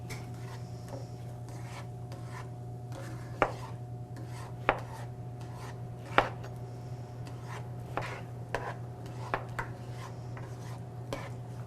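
A knife cutting vegetables on a board, with a few sharp chops scattered among softer slicing taps at an uneven pace over a low steady hum, close by and with no talking.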